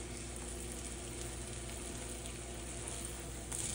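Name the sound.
croissant French toast frying in butter in a pan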